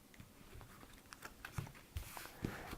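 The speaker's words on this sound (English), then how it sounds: "we've shuffled, and now we're cutting the deck" A deck of playing cards being cut after shuffling gives a few soft, close taps and papery snaps, faint and irregular, building to slightly firmer clicks near the end, with no talking.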